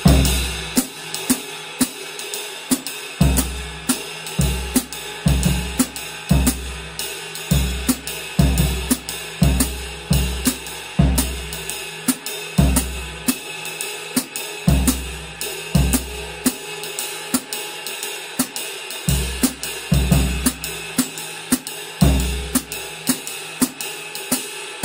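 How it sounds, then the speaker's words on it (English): Drum kit groove with bass drum thumping steady eighth notes under a quarter-note hi-hat, played in a regular repeating rhythm with no talking. "the bass drum play the eighth notes and the hi-hat play the quarter notes,"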